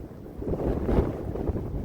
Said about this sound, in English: it's a windy day, isn't it?